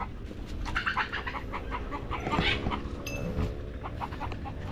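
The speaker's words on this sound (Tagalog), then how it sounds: "Diyan sila ikot-ikot yung mga darag chicken natin." Darag native chickens cluck softly in a loft, with scattered short calls over a low background hum, fairly faint and unhurried.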